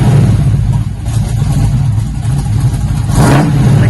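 A 1971 Chevy Nova with a lumpy cam and custom dual exhaust revs briefly, a deep, close engine rumble with a throaty low burble and a short rising rev near the end, loud and uninterrupted by talk.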